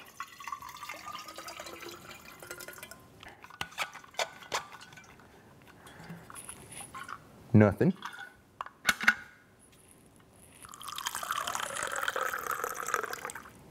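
Water poured from an insulated drink container, heard as irregular splashing and trickling with a few loud glugs in the middle and a steadier hissing pour at the end, with someone talking intermittently throughout.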